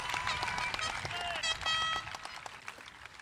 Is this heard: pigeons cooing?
no